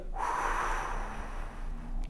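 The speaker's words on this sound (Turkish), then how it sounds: "Burnumuzdan derin bir nefes alıyoruz." One long, deep breath drawn in through the nose, a soft airy rush that swells and holds for about two seconds, close and quiet, with no talking.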